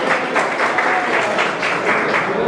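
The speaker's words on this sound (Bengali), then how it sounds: "হাততালি কই?" Loud, close applause at a pigeon tournament prize-giving ceremony in Murshidabad, a short dense burst of many hands clapping at once.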